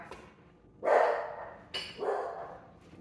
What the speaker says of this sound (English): she is officially my guard dog